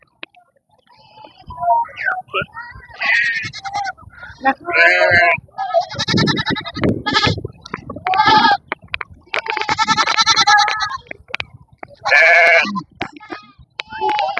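Goats bleat repeatedly, loud and close, in wavering cries that overlap with people talking nearby.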